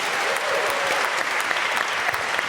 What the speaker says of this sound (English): so let's give them some applause